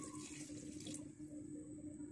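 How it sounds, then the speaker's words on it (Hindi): Two glasses of water pour and splash into a cooking pot for boiling potatoes in a quick gush, then settle into a quieter trickling fill. "और अब इसमें मैं दो गिलास पानी ऐड कर लेती हूँ"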